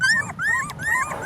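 Ten-day-old pit bull puppies in a litter giving three thin, rising whimpering squeals in quick succession, close and fairly soft, with no talk.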